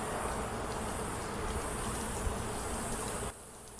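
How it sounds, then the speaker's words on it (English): Dense, continuous swarm buzz of bees high up in a tree, steady and fairly loud, then dropping off abruptly near the end. "there's just buzzing up there. There's gotta be a giant beehive."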